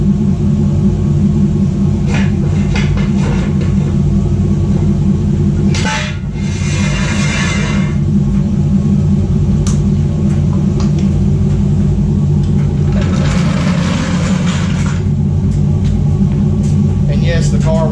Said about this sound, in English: We're gonna do wide open throttle pulls, and we're gonna see what happens.